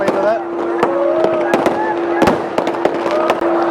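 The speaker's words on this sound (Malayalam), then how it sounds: "ഇവിടെ ഇന്ന് രാത്രിയിൽ മുഴുവൻ ഇതുപോലെ നിരന്തരമായിട്ട് പടക്കം പൊട്ടിയിരുമൊക്കെ ആയിരിക്കും." Firecrackers bursting during the Karthigai Deepam festival night at Thiruvannamalai, sharp cracks going off in a rapid irregular string, some near and some distant, over a steady tone and background voices.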